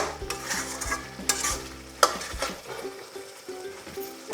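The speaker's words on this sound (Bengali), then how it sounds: "আবারও একটু ভালো করে নেড়ে দিতে হবে এইভাবে ভালো করে" A spoon stirs mutton curry in a pan with repeated scraping strokes and one sharp clink over a soft sizzle, close and fairly quiet, with no talking.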